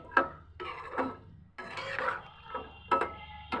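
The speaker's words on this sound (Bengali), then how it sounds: "সিমের বিচি আলুটা আমি ভালো মতো নেড়ে দিচ্ছি, নেড়ে কষিয়ে দিচ্ছি।" Bean seeds and potatoes being stirred in a cooking pot, a spoon scraping and rubbing in short irregular strokes with soft clinks against the metal, fairly close and quiet.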